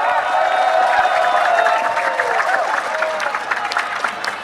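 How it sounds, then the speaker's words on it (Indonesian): A large audience claps and cheers in a steady, dense wash of applause for a speaker at an Indonesian political debate event, with crowd voices mixed in throughout. "Tepuk tangan sekali lagi untuk Rocky Gerung"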